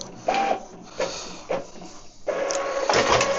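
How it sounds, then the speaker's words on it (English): An Epson EcoTank L3270 inkjet printer printing: loud, close mechanical whirring with rhythmic sweeps of the print head back and forth, then a steadier feeding hum, no talking. "send the printing task to the printer and it will do its job"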